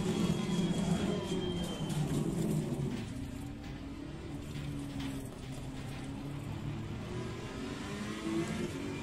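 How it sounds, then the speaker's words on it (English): Race car engine in Assetto Corsa Competizione at Spa, a steady mid-pitched drone that fades slightly after the first couple of seconds, continuous with no other sounds. "Faster car approaching, watch out."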